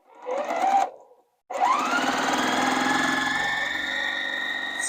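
A sewing machine stitches light and dark fabric strips together for quilt blocks. A short burst of motor whir is followed by a brief pause, then a steady, close, loud stitching drone with a rising pitch as it speeds up.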